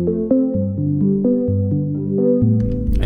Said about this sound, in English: All DAWs come with a stock arpeggiator, so you can drag one on there and then it'll make the chord sound like this.